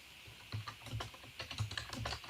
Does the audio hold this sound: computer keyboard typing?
yes